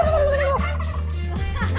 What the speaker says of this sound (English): Turkeys go.